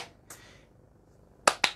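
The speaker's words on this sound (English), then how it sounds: "I can do 2 claps." Two quick, sharp hand claps in a row after a ball is thrown up indoors during a children's catching challenge, crisp and close against a quiet room.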